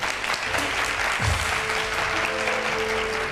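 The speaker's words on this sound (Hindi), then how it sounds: "तालियां बजाएं भाई इसके लिए" An audience claps together in sustained, dense applause that holds steady for a few seconds.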